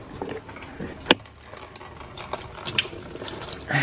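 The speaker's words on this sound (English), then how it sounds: "if you take the bung out and you leave the radiator cap on, it'll come out nice and slow like this" Coolant trickles slowly from a drain bung on a car radiator into a bucket, a light splashing flow with a few louder clinks and drips, close by, with no voices.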